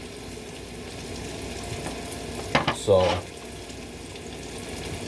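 Burrito filling fries in a pan with a steady low sizzle, broken by a few quick clanks and scrapes of a utensil against the pan and a short spoken word.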